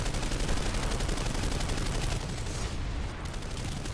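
Rapid automatic gunfire in the video game Planetside 2 forms a dense, loud, continuous rattle of shots that eases slightly in level partway through.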